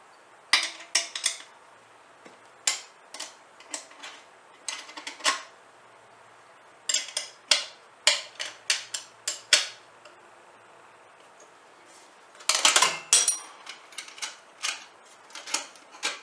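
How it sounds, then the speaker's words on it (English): Metal bolts clink and rattle as they are loosely fitted onto a Gravely mower bagger guard, with bursts of sharp close taps and jingles separated by short pauses. "So we can loosely put these bolts on and go from there."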